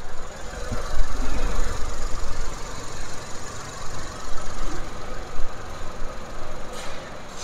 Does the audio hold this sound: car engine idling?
yes